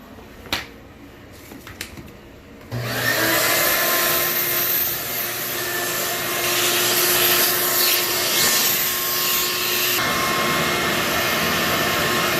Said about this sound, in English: Then I have the vacuum.